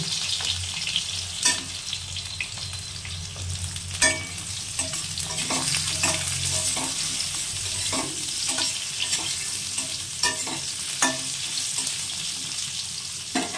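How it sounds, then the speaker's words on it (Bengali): Eggplant pieces fry in oil over tempered spices alongside potatoes, a continuous close crackle and sizzle punctuated by sharp spatula knocks and scrapes against the pan. "এবার দিয়ে দেবো প্রথম বেগুন। বেগুনটা আগে ভেজে নিতে হয় লাল করে।"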